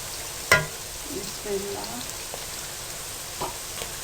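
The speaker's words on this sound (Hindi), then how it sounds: "अब आपने 1 मिनट के लिए इनको फ्राई करना है।" Potato and bitter gourd fry in a pan, giving a faint, steady sizzling hiss with a few soft clicks and spatters, heard close and quiet.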